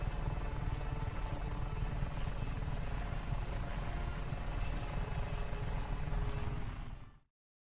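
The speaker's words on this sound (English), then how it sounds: "And there's a stupid helicopter." A helicopter's rotor drones in a steady, dense thrum in the video game Just Cause 3, then cuts off abruptly at the end.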